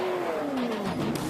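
A race car engine revs hard through its exhaust, pitch dropping slightly in a steady droning whine, heard from a distance at moderate volume.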